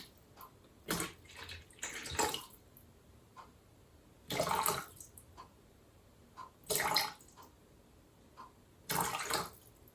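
Distilled water is poured in short bursts into a container while mixing a lye solution for cold process soap, five separate splashy pours spaced by quiet pauses, close and fairly soft.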